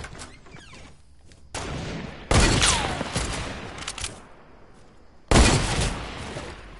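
Sniper rifle fire in a first-person shooter game comes as loud, sharp cracks, with three big bursts and lingering rumble and echo between them.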